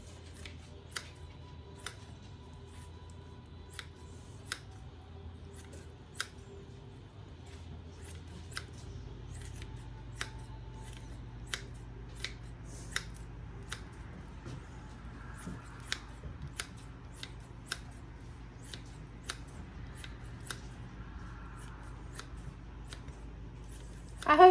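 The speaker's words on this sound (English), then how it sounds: "I'm just going to go ahead and dice it up with these scissors" Kitchen scissors snip through cooked slices in a skillet, producing a steady series of sharp, crisp clicks spaced a second or so apart against quiet background hum, with a louder clatter at the very end.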